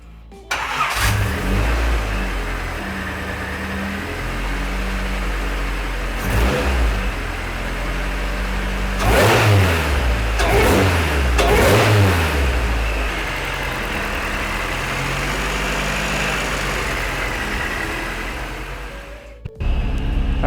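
A Honda D16Y8 engine fitted with a Jackson Racing supercharger starts and settles into a steady idle, then rises in a few loud revving bursts before dropping back to idle and cutting off at the end.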